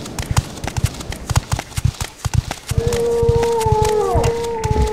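A creature in the fantasy role-playing game Morrowind lets out a drawn-out, wavering growl that rises over a steady run of loud, rhythmic footsteps.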